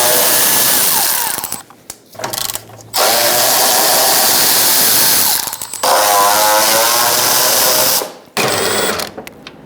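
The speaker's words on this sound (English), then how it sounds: "we're going to use a 12mm. We are going to remove these 4 main bolts." A power tool spins out the 12mm bolts holding the water pump on a 2014-2018 Subaru Forester, in several loud whirring bursts separated by short pauses.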